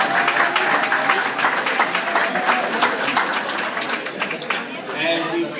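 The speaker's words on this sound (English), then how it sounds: "Can we give him a huge round of applause?" Audience applause at a Three Kings Day Parade breakfast ceremony, honoring the master of ceremonies: dense, steady clapping from a sizable crowd, fairly close and loud throughout, with faint voices mixed in.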